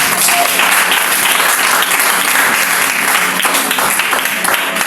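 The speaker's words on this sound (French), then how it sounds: "Est-ce que tu peux acclamer Jésus?" A church congregation at a Tuesday worship service breaks into loud, sustained applause that fills the room evenly for several seconds, dense and steady with no break.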